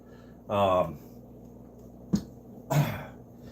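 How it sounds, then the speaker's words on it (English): A single hoarse cough while smoking cannabis is followed by a sharp click and a short throaty hack, close to the microphone with quiet background hum. "I didn't mean to cough up the whole place there"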